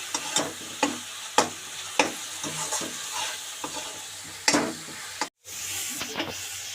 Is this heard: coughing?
no